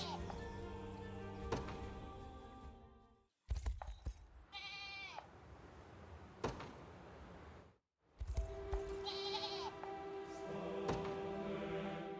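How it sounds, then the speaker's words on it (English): Goats bleat in the video game Unicorn Overlord: several wavering calls rise in separate bursts over faint game music and ambience, with brief gaps of silence between sections. "Goats."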